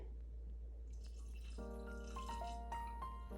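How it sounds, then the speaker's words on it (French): Ice water, 100 g, pours into a Thermomix bowl while butter is being made, running steadily with a rising ringing tone as the container fills, close and clear. "Ajoutez 100 g d'eau glacée."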